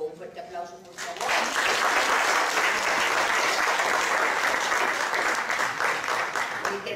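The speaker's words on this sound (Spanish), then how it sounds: "Un fuerte aplauso, por favor." Audience applause at a university humanities panel discussion. After a brief quieter moment, a full room breaks into loud, sustained clapping that holds steady for several seconds.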